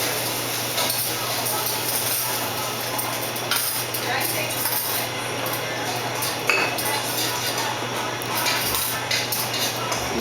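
Utensils clink and scrape against dishes while warm zucchini is plated in a kitchen, with light metallic taps scattered over a steady background hum and a person talking.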